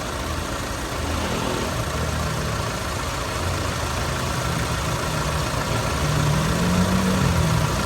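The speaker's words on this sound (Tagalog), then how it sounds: "i-check muna natin ang bomba kung gaano kalakas" Air compressor pump, checked for pressure on a Toyota Urvan Estate van, runs with a continuous close mechanical drone and chug that holds steady throughout, with no voices.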